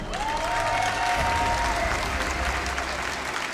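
A StarCraft II tournament audience at WCS Austin 2018 breaks into loud, sustained applause and cheering filling the hall, while a commentator talks over the top.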